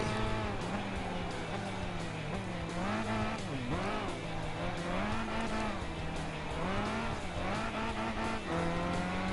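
Simulated race cars lapping Laguna Seca in Gran Turismo 5 during a 200-mile endurance race, engines droning loudly and continuously with rising and falling pitch as gears shift, plus faint tire noise.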